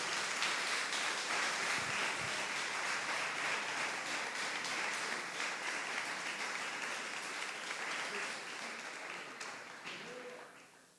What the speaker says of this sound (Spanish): Usted debería estar contento y darle un aplauso al Señor.